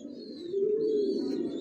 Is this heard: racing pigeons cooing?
yes